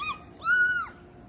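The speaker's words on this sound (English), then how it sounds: "The birds are chirping." A single drawn-out bird call rings out in the morning, clear and fairly close, lasting about half a second over quiet background hiss with no other voices.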